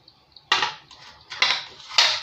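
A metal commercial cupcake pan is handled on a countertop, giving three distinct clattering knocks spaced roughly a second apart, each with a short metallic rattle, close and clear with no talk.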